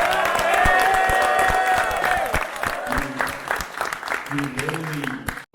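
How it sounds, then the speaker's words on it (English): A crowd claps and cheers loudly at first, then the applause thins out as a voice talks over it. "Clap it up for him."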